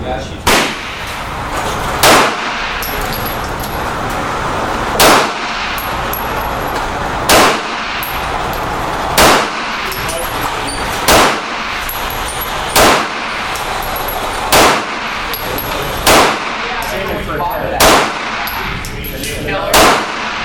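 A Beretta PX4 Storm Inox pistol fires about a dozen evenly spaced shots, each a loud, sharp crack followed by a metallic ring, over steady outdoor background noise.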